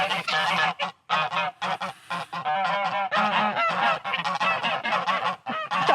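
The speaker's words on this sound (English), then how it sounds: "That goose actually got my ankle." Farm geese honking loudly and close at hand, a dense flock chorus of repeated harsh calls with only brief gaps, going on for about six seconds without any speech.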